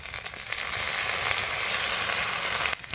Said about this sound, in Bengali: এখন আমি মশলাটা বেটে নিয়েছিলাম এখন দিয়ে দিচ্ছি।